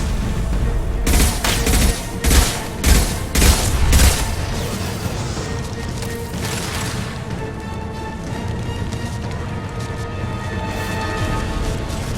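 Heavy combat fire in the video game Mass Effect 2, with a cluster of loud, rapid gunshot bursts and booms early on, then a dense, rumbling battle din with metallic ringing.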